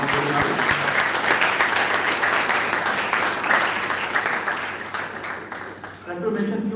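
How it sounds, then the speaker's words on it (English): An audience applauds the volunteers at the closing ceremony of an international health symposium, a dense sustained clapping that swells and then thins near the end as a voice begins to speak. "a big round of applause for all the volunteers who have worked very hard"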